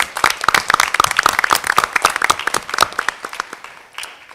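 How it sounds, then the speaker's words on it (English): Applause at a school board meeting: a room of people clap in brisk, sharp claps that stay strong for a few seconds, then thin out and fade near the end. "please join me in a round of applause for these wonderful, wonderful individuals."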